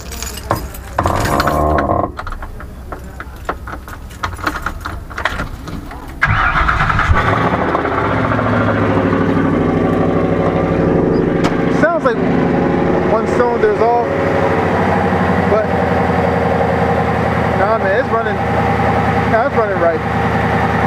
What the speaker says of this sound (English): I'm just gonna let it just idle.